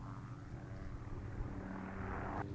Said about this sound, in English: The private contractor is using two helicopters working in tandem.